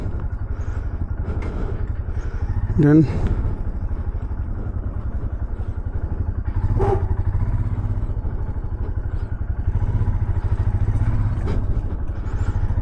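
Motorcycle engine running steadily while riding on a road after leaving a hotel on a bike trip from Kolkata to Daringbadi, a low continuous drone with a few clattering bumps and a brief spoken word.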